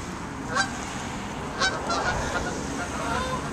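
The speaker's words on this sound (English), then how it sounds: "Geese." Geese honk a few times at a moderate distance near a residential yard, short separated calls over a quiet outdoor background.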